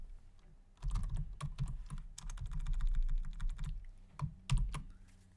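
Fingers type on a computer keyboard nearby, a quick run of clicking keystrokes in uneven bursts with short pauses, a final few sharp taps, no speech.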